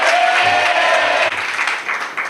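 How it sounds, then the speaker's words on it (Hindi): A congregation claps loudly for the Lord after a closing prayer at a church gathering. A dense burst of applause runs the whole length, with a tonal hum in the background. "जोरदार तालियां हमारे प्रभु के लिए।"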